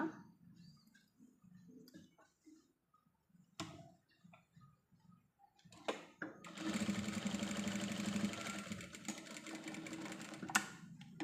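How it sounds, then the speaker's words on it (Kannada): An electric sewing machine stitching fabric for a pencil pouch: quiet handling and clicks at first, then a loud, fast, steady whirring run of stitching for several seconds that stops with a short click. "ಆ ಮಾರ್ಕಿಗೆ ಬರೋ ಹಾಗೆ ನಾವು ಒಂದು ಹೊಲಿಗೆನ ಹಾಕೋಬೇಕು ಈ ಥರ"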